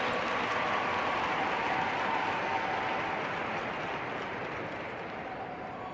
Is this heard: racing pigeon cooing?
no